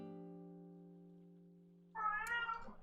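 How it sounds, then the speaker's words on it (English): A pet cat meows close by in a short, bright burst near the end, after a steady held musical tone of calm video game music plays quietly alone. "Let's get my kitty. Meow. He says hi."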